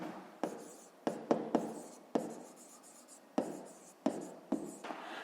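Pen or chalk scratching out a fifth-grade math expression, a subtraction of two terms, in a run of short strokes with sharp onsets and brief pauses between them, close and fairly quiet, no voices.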